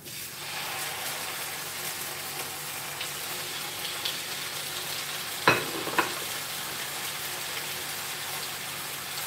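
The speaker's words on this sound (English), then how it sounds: "when you get that sizzling sound" Chicken sizzling in a hot frying pan, a steady close crackling hiss throughout with a couple of sharper clatters partway through, no talking.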